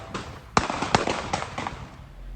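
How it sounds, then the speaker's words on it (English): Several sharp gunshot-like cracks in quick, irregular succession, fairly distant and echoing, with no voices. "gunshots start going off"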